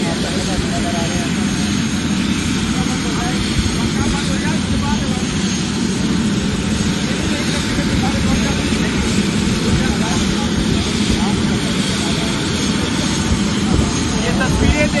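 A helicopter carrying a yoga guru lands or flies in Karnal, India. It gives a steady, loud, close rotor and engine roar that lasts throughout, and a voice is heard over it.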